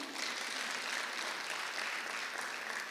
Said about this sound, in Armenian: Աստված արժանի է, որ մենք իրան ծափահարենք